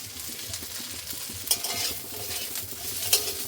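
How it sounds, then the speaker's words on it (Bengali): Spices frying in a pan for a chicken curry, a steady sizzle with the scrape and clink of a utensil stirring, including a couple of sharper metallic knocks against the pan. "বন্ধুরা মশলাটা আমি ভেজে নিচ্ছি সবকিছু।"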